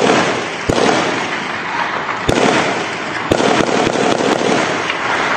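Gunfire rings out during a shootout between drug traffickers in a neighborhood at night, several sharp loud cracks spaced irregularly over a dense, constant background roar.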